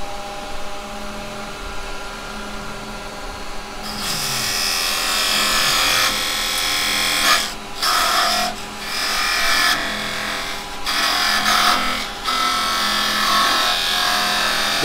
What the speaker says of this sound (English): So I'm just going to use my carbide parting tool.